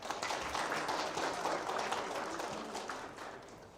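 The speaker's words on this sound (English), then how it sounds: "So please give another round of applause." Audience clapping at a tech hub conference, a steady, fairly quiet wash of applause that holds for several seconds and fades a little toward the end.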